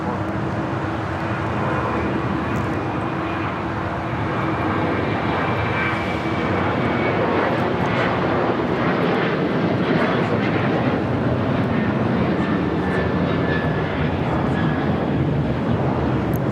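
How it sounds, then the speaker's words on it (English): An Airbus A350 jet turns at LAX, its engines giving a broad, steady roar that stays loud and even for the whole stretch, with a faint whine on top. "An A350 making that turn"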